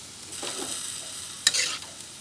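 Hokkien noodles hit a hot pan and are stir-fried, a short burst of sizzling with scraping stirs and a sharp clatter midway, fairly close.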